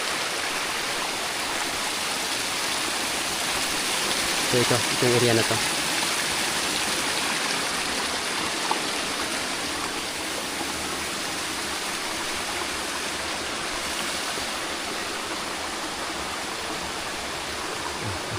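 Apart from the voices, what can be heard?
flowing water at a water system source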